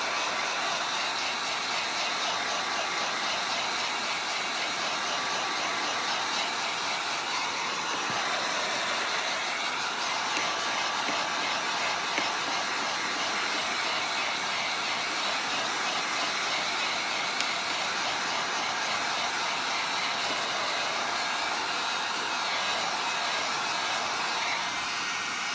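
A craft heat dryer blows on paint over a Christmas craft mold with a constant loud, airy whir that runs unbroken from start to finish, close to the mic.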